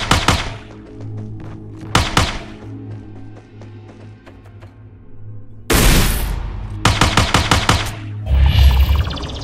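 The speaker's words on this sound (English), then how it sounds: "The bombs and weapons compressing the ambience." Bombs and weapons firing in an Unreal 5.4 Lyra video game soundscape, with heavy booming impacts and rapid bursts of gunfire in close, loud clusters over a low ambient drone.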